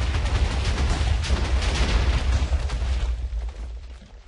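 A Minecraft explosion bursts on a spruce wood parkour map, a loud, sustained booming rumble with crackling debris that holds steady for several seconds before fading slightly toward the end.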